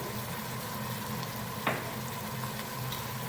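A teaspoon of cumin seeds sizzles steadily in hot oil for an Achari aloo gobi masala, a close, even frying hiss with a brief stir or clink partway through and no talking.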